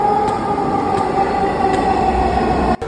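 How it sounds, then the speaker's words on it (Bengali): A loud, steady rumble and whine of a metro train arriving at a crowded station close by, with a sustained tonal hum and a sudden clunk near the end. "আমার ট্রেনটাও চলে আসছে"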